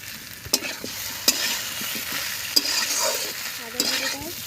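A paste of turmeric, green chili, ginger and cumin fries in a pan while being stirred: repeated sharp scrapes and taps of a spatula over a dense, hissing sizzle, close and continuous, with no voices.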